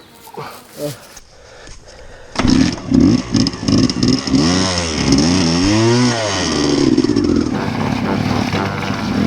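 A dirt bike engine fires up after a kick start and revs repeatedly, rising and falling in pitch up close, while a person talks over the engine noise.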